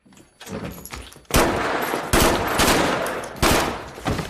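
Loud bursts of gunfire crack out in several volleys, some overlapping into rapid fusillades, with no talking, from a terrorist attack scene in the film Hotel Mumbai (2018).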